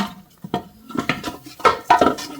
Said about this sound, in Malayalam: അപ്പൊ നമ്മ അലുമിനിയം ചട്ടി പഴയതെടുത്തു